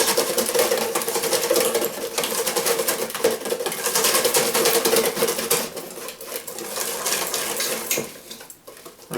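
A whisk scrapes and clatters steadily in a bowl of American pancake batter, beaten until smooth. The rapid scraping is close, loud and continuous, with no talk, and eases off near the end.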